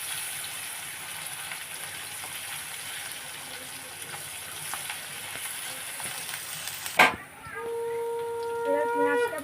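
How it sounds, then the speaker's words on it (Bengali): Chopped onions fry in oil, giving a steady, fairly loud crackling sizzle. Near the end a sharp knock cuts in, and a faint whistling tone follows. "এবারে দেবো পেঁয়াজ কেটে রেখেছিলাম আগে থেকে, পেঁয়াজটা ভালো করে ভেজে নেব।"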